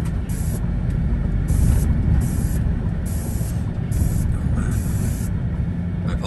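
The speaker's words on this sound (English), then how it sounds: "I apologise for the hissing noise again, that's just the air cushion in my seat" A steady airy hiss sits under a constant low engine rumble, with a higher hissy band from a seat's air cushion switching on and off in irregular bursts.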